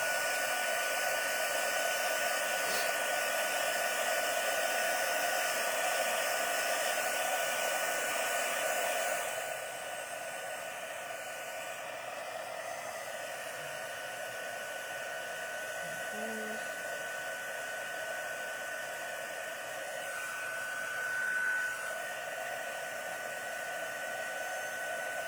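A heat embossing tool blowing hot air over a card: a steady, loud whirring roar that runs for the whole stretch, dipping slightly partway through, with no talking.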